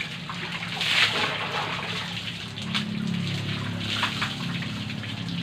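Water poured and splashing during a bath, a continuous gushing wash with splashes close by.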